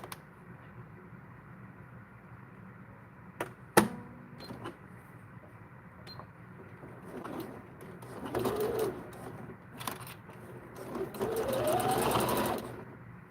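A sewing machine stitches a fabric bag. Faint, short whirring runs start and stop several times, with scattered clicks and handling noises in a quiet room.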